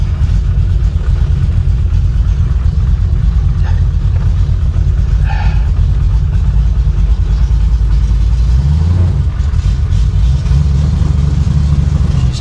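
Exhaust from a formerly flood-damaged Chevrolet Impala built up to 560 horsepower, close and loud, with a steady deep rumble that swells slightly as the engine revs.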